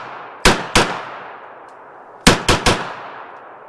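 Suppressed Turkish MKE AP5SD braced pistol firing 115-grain Phoenix ammunition: two sharp shots, a pause, then three quick shots, each a loud crack with a clanking action and a short ringing tail.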